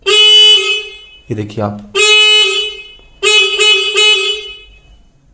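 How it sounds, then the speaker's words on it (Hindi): A Honda 70 motorcycle horn honks loud and near in three bursts, a long blast, then two clusters of short repeated toots, with someone briefly talking between them. "अब जैसे हम हॉर्न में जाते हैं सिर्फ हॉर्न चलेगा हमारा"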